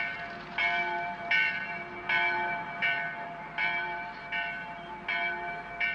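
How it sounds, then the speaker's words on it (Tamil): Church bells ring in a village setting, a steady series of bright, resonant strokes about every second or so, moderately distant and heard alone without talk. "சர்ச் பெல் சத்தம் கேக்குது பத்தியா?"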